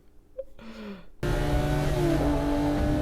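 A car engine from the film The Dark Knight bursts in loud after a quieter opening, then holds a steady, powerful revving roar to the end.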